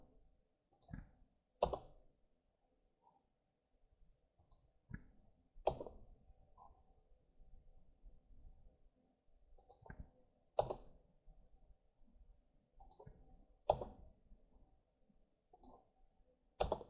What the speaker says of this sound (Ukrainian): встановлюємо курсор мишки і натискаємо з клавіатури Enter